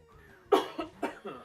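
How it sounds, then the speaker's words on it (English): Several harsh coughs in quick succession, close and loud, each a short raspy burst with brief gaps between. "I do apologize for all the coughing and the hacking and such."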